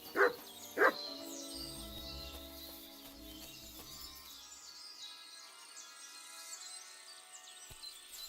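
A dog in Kingdom Come: Deliverance II gives two sharp barks close by at the start, then a quieter outdoor game ambience with faint birdsong and a low rumble follows.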